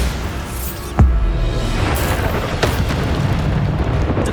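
A Bombarda spell explosion in the Hogwarts Legacy video game lands as a single loud, deep boom with a sharp onset, followed by a rumbling, crackling tail and a few fainter secondary blasts.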